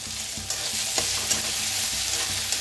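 Crushed ginger, garlic and green chili frying with coriander leaves, a loud dense sizzle running throughout with a few quick spatula scrapes and taps, no talking.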